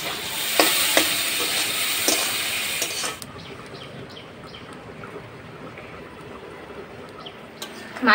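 Fish curry with cumin and turmeric sizzles in an oily pan as it is stirred, loud crackling frying with sharp scraping strokes at first, then dropping to a softer, steady simmer.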